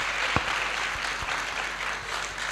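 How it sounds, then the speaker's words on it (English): A conference audience at a career development association event claps continuously, a steady wash of applause at moderate level with a few sharper individual claps standing out, no voices over it. "Go ahead and clap."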